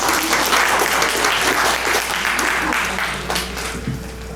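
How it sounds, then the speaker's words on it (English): A crowd applauds steadily and loudly, the clapping holding strong before tapering slightly toward the end. "Let's give her another round of applause."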